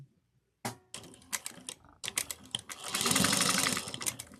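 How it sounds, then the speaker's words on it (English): A sewing machine top stitches a fabric change pouch in bursts of rapid stitching, starting in short runs and building to a sustained, loud run near the end, with no talking. "so then we're going to top stitch these down."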